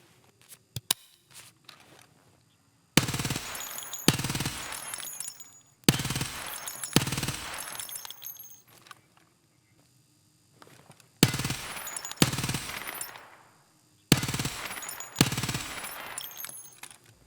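Suppressed .45 Vector submachine gun in Escape from Tarkov, fitted with an Omega 45K suppressor on a 6-inch barrel, fires four sustained full-auto bursts separated by short pauses. The shots form a dense, loud rattle with no voices.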